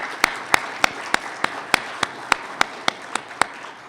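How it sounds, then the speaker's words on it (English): At an air transport symposium, one pair of hands claps in slow, evenly spaced single beats, about a dozen of them, sharp and near, fading slightly toward the end. "please join me in a round of applause for them"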